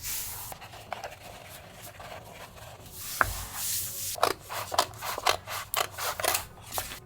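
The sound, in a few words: brayer tool rolling over flock material on cutting mat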